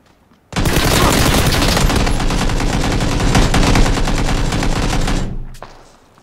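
Loud, close automatic gunfire from the PUBG video game rattles in one sustained burst of rapid shots lasting several seconds, then cuts off into near silence.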